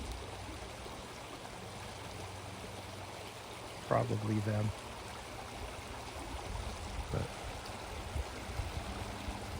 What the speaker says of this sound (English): It's a beautiful day on this river here, little creek.